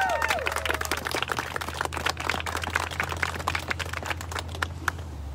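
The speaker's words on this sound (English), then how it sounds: "let's give a round of applause for those youth leaders and Black leaders" Scattered audience clapping honoring youth and Black leaders at an End White Supremacy event, a patter of individual claps at moderate distance over a steady low hum, with no talking.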